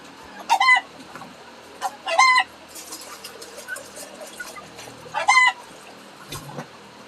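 Backyard chickens and a rooster on a small farm, with several loud, close crow-like calls and clucks in separate bursts, softer clucking between them, no talking.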